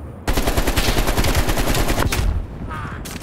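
Rapid machine gun fire in a zombie shooter game hammers away loudly and steadily for about two seconds, then gives way to lighter shots and clatter.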